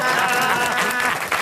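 A studio audience on the French show Les Grosses Têtes breaks into applause: dense, loud, close clapping that fills the whole brief moment.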